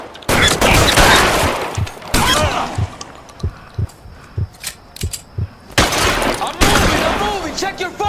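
Rapid bursts of gunfire from an LA Noire shootout, sharp cracks repeating through much of the stretch, with shouted voices of men between and over the shots.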